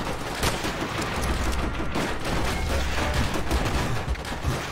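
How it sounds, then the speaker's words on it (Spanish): Enemy machine gun fire in the Call of Duty World at War mission Semper Fi, dense sustained bursts of automatic gunfire mixed with scattered shots and battlefield rumble, loud and continuous with no pauses. "¡Ametralladora enemiga!"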